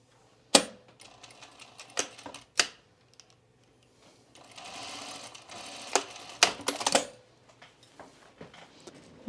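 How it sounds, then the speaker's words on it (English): A domestic sewing machine stitches a seam in knit fabric for a camisole, with short sharp clicks and a sustained mechanical run of stitching mid-clip, close and fairly loud, with no talking. "So I'm just going to use my machine here."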